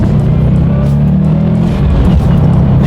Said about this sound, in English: Let's do a quick little acceleration test and see how quickly we can get this new 2019 STI here up to speed.